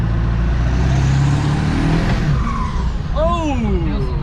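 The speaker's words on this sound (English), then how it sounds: "The only way to properly test this is to give it full throttle again." A 7.3L diesel truck revs hard at full throttle, a loud continuous roar close by with a rising whine and gliding pitch near the end.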